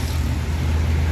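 A bus pulling into a terminal, its deep engine rumble steady and fairly close, with no voices.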